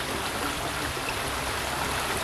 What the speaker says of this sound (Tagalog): Hindi ko marinig kasi sa agos ng ano, tubig.